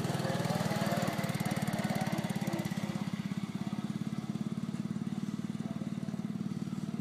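A John Deere 210 lawn tractor engine runs steadily nearby, a continuous buzzing, pulsing drone that holds level for several seconds with a slight dip in loudness partway through.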